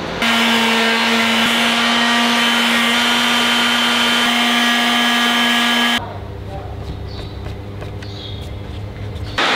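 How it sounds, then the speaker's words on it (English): A loud, steady vacuum cleaner motor whine with a strong hum runs for about six seconds inside a car cabin, then cuts to a lower rumbling drone with scattered clatter as it sucks up debris. "right now I'm just gonna vacuum up the place"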